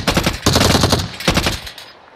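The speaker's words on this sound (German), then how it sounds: "Jetzt haben wir beide auf ihn geschossen." Rapid automatic gunfire in the video game Call of Duty Warzone, a loud close burst of quick shots in two clusters that fade out over about two seconds.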